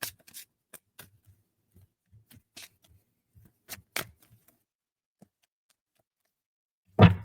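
Sparse, soft tarot card riffles and flicks come in short bursts with quiet gaps between, close up, ending with a louder rustle.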